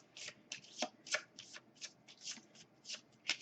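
A deck of board game cards is shuffled by hand, with a quick series of crisp riffles and snaps repeating in a steady rhythm, close and clear.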